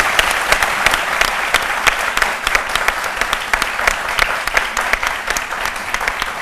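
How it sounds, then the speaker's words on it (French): A studio audience on a midday television show claps loudly and steadily for several seconds, a dense crackle of many hands with crisp individual claps poking through, with no talk over it. "On applaudit très fort."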